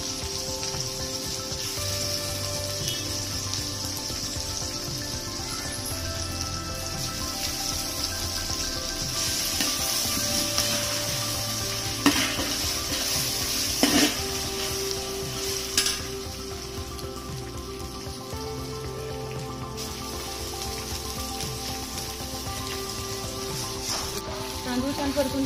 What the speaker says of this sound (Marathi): तांदूळ छान परतून घेऊया.